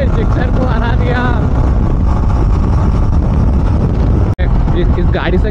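A loud, steady engine drone from a 2024 Jawa 42 Bobber BS6 motorcycle riding through traffic, with heavy wind buffeting on the microphone; a brief dropout near the end.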